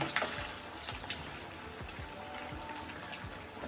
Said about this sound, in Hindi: अब यहाँ पर मम्मी इसको फ्राई कर रहे हैं